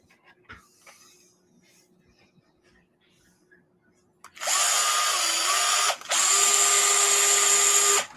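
A DeWalt power driver whirs loudly in two bursts, the first lasting about a second and a half, then a brief pause and a longer run, following quiet room sounds and light handling noises.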